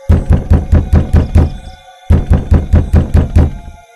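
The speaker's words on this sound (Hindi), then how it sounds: "तभी उनके दरवाजे पर से आवाज आती है।" Rapid knocking on a door at a home, two loud close bursts of about seven heavy thuds each, split by a brief pause.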